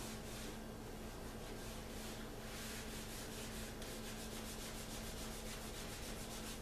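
A rag wet with mineral spirits rubbed firmly over painted furniture to lift antiquing powder, giving a steady, close, soft scrubbing hiss in quick repeated strokes.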